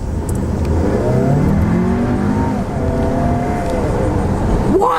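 A 2.0L Volkswagen Atlas engine roars under hard acceleration with the pedal floored, its rising pitch sweeping upward steadily, loud and close, with a sharp whine near the end.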